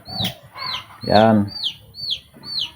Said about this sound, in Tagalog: pasensya na kayo sa ingay ng mga alaga nating mga manok